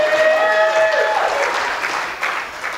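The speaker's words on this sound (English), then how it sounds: "Give him a big round of applause." A church audience breaks into loud applause, a dense wash of clapping that swells and then thins out gradually, with a short sung or called note at the start over the claps.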